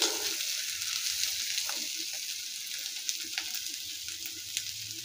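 Chopped green chilies sizzle in hot oil in a pan with cauliflower for a Bengali rui fish curry: a steady, close frying hiss with a few small pops and clicks throughout.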